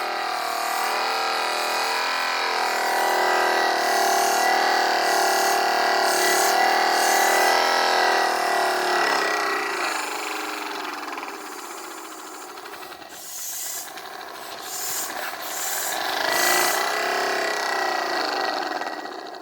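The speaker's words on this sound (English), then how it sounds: "I'm pumping with one hand." A hand pump pushes air into a small 3D-printed air engine, which runs with a continuous close hiss and rapid chuffing that fades and surges as the pumping rate changes.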